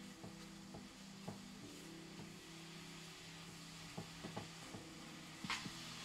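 Philly cheesesteak meat sizzles quietly on a griddle as a utensil stirs and scrapes it, with light irregular taps over the steady frying hiss.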